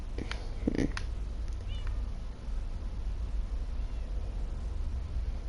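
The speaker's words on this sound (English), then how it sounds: "I don't know what to name these two cats" Cat meowing in the Minecraft video game, a few short mews early on over a steady background hum, followed by quieter ambience.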